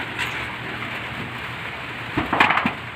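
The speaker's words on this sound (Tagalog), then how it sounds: "Malakas lang ang ulan." Heavy rain hisses steadily on a new corrugated metal roof, with a few louder rattling bursts of drops near the end.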